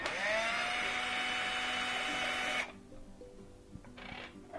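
A power screwdriver drives out the last screw from the top cover of a Yeti battery pack, giving a loud, steady whirring whine for about two and a half seconds before it stops and leaves faint clicks and handling noises.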